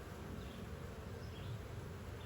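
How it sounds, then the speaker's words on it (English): Honey bees fanning their wings at the entrance of a Layens swarm trap hive make a steady, soft, continuous buzzing drone, fairly faint and unbroken, with no voices. "When the bee butts are in the air and their wings are flapping, that's the fanning behavior."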